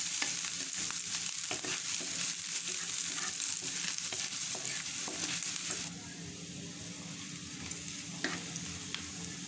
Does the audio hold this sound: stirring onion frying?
yes